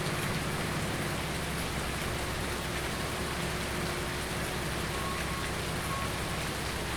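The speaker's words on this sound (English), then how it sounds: "when it rains on FS19, it can rain for like the full day." Steady, faint rain falls in Farming Simulator 19, a constant hiss of rain on surfaces with no talking.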